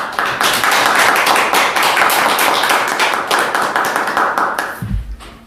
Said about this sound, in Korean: 우리 자신감으로 호흡을 한번 부르겠다고 약속에 박수 한번 해주시기 바랍니다